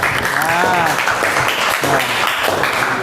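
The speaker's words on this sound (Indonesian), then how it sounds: "Kasih tepuk tangan buat Nisya." Classroom applause for a student, a short burst of clapping from pupils, mixed with overlapping young voices talking and calling out.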